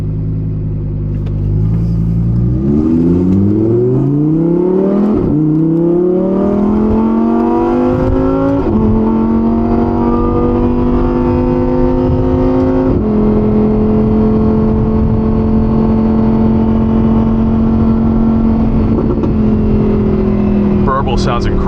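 A Lamborghini Huracan Evo Spyder heard from the cabin with the rear window lowered, its engine droning and climbing through several gear pulls and shifts, loud and continuous, while someone talks over it.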